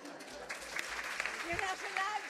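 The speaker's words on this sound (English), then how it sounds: "You're not allowed to clap." A crowd claps steadily throughout at a panel event, with a voice speaking over the applause near the end.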